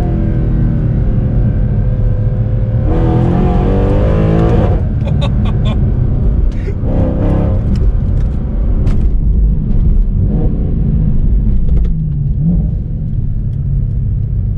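A Mercedes C63 Black Series with a seven-speed gearbox, driven on paddle shifters: a loud, continuous engine roar from inside the car, with rising revs and sharp upshift breaks and pops, plus a brief burst of talk.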